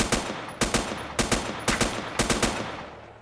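Rapid bursts of automatic gunfire from the survival video game Next Day: Survival, several clustered volleys of sharp shots close and loud, repeating every half second or so with short gaps between bursts.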